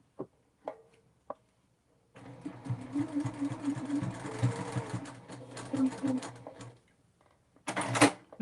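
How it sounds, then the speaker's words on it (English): A sewing machine stitching a double pocket folder runs in one steady, buzzing stretch of about four seconds, bracketed by a few sharp clicks and handling knocks, with a short final burst of stitching at the end. "now we're going to stitch this one the same way"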